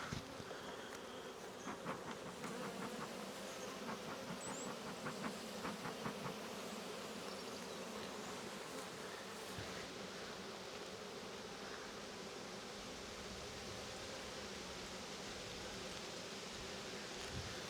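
Honeybees buzz around an opened, queenless hive during an apiary inspection, a dense, continuous, close-up drone with scattered louder passes of single bees and faint handling knocks.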